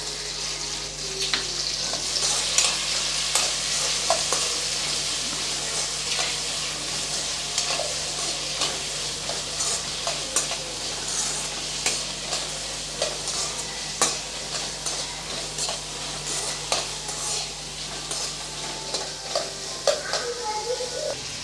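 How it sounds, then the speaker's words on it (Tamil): Chopped tomatoes sautéing in a pan for a potato side dish give off a continuous loud sizzle, with frequent stirring scrapes and light clicks of the spatula throughout. "ரெண்டு மீடியம் சைஸ் தக்காளி கட் பண்ணி வச்சுருக்கேன் அதையும் சேர்த்து நல்லா வதக்கிக்கலாம்"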